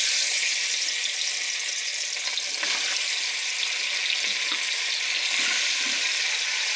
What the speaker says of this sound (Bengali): ভালো করে এদিকে ভাজিয়ে নিতে হবে।